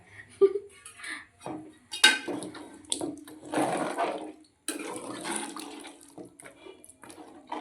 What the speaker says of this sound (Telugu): ఇప్పుడు మనం ఇందులో వాటర్ పోసుకోవాలి.